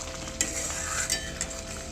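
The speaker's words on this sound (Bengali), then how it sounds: "আমি এবার নেড়ে দিচ্ছি।" A spoon stirs thick egg korma gravy in a pan, scraping with a few sharp clinks over a constant sizzling hiss, close and fairly quiet.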